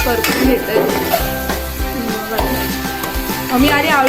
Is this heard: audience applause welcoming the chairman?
no